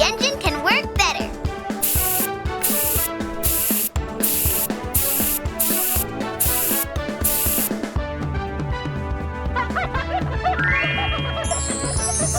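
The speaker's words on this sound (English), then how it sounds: "Let's spray some cleaning liquid and the engine can work better." A cartoon truck's engine gets sprayed with cleaning liquid: about six short, loud hissing spray bursts in a steady rhythm, over continuous cheerful music, followed by jingly chimes.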